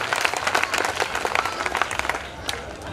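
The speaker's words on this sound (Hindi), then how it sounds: "जोरदार तालियां, बहुत कंजूसी कर रहे हैं आप लोग" Dense, sustained applause from a school audience for a prizewinning student, many hands clapping steadily throughout with no pause.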